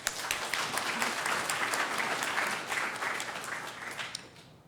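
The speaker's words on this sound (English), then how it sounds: "give them a round of applause" Applause at an appreciation event honoring people for their service, a dense wash of clapping from a crowd, steady and moderately loud before fading out at the end.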